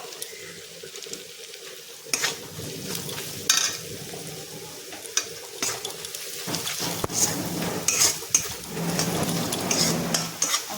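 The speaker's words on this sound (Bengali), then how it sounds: "আর একটু মশলা কষার সময় দিচ্ছি একটু জল। আমি একটু দিয়ে দিচ্ছি চিকেন মশলা" Spices and chicken masala frying in a pan with a little water added, a wet sizzle broken by repeated sharp scrapes and knocks of the stirring utensil, growing busier toward the end.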